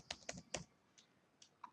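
Several quick keystrokes tap on a computer keyboard as a username is entered, a short cluster of three clicks followed by a few sparse, lighter taps, close and fairly quiet.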